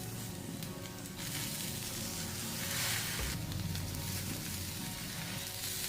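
Soaked soybeans sizzling on a hot griddle (tawa), a steady close frying crackle that swells slightly partway through, with no talk.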